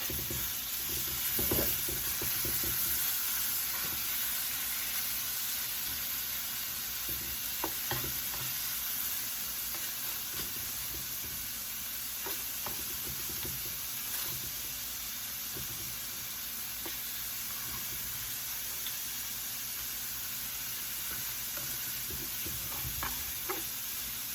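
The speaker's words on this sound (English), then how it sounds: "let me flip these over" Stuffed crab salmon, steak and scallops sizzle steadily in a hot pan, a continuous close frying hiss with occasional soft clatters as the pieces are flipped, and no talking.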